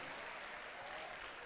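Church congregation at a Pentecostal service applauding, a dense, steady wash of many hands clapping together, fairly faint and distant, with no voices standing out.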